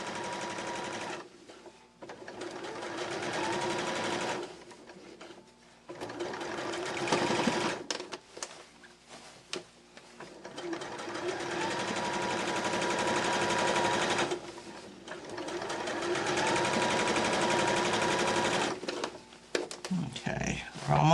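A sewing machine stitches the seam of a beginner fabric bag in bursts of rapid mechanical clatter, pausing briefly several times before starting up again, close and fairly loud.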